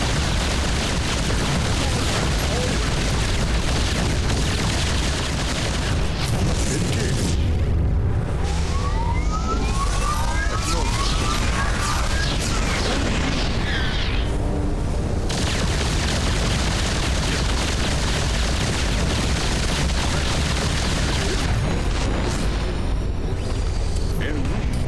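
Battlecruisers firing on a generator in StarCraft 2, dense continuous weapon fire and booming explosions filling the scene, loud and near, with a brief thinner lull in the middle where sweeping laser-like tones stand out.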